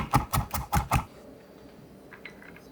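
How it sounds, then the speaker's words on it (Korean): Five quick, evenly spaced knife chops on a cutting board while coarsely mincing two whole garlic cloves, close and crisp, followed by near silence with a few faint small clicks. "알싸한 통마늘 2개는 살짝 굵게 다져서 준비해주세요"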